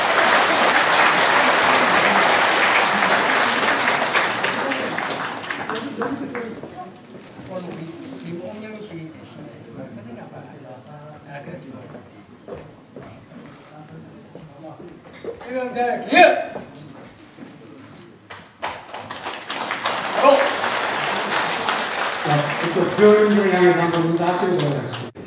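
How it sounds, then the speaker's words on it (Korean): An audience at a Korean veterans' association ceremony in Busan breaks into sustained applause, which fades into quieter room sound with a voice speaking over a PA before clapping swells again. "다시 한번 진짜 경례의 박수 부탁드립니다."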